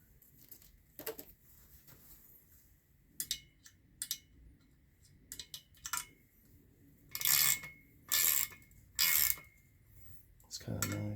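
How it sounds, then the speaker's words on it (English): Valve keepers being worked off a fresh valve in an SVT Cobra cylinder head: small metallic ticks and clinks in scattered bursts, with a few louder clattering scrapes near the end, close and sparse against quiet. "I'm going to get the keepers out, the valve keepers."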